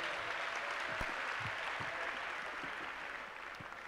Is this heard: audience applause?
yes